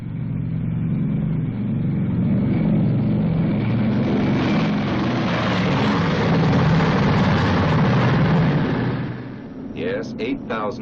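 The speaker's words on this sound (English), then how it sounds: "And those are its 4 Wright 3350 engines." Four Wright 3350 radial engines of a B-29 Super-Fortress run together as a loud, steady droning roar that swells slightly and then cuts off near the end.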